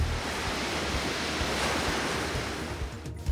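Huge ocean monster waves crash and roar in a steady, loud, broadband surge with wind rushing through, with no voices.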